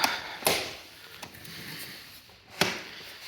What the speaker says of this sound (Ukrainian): Ось тут є лапка фіксатор.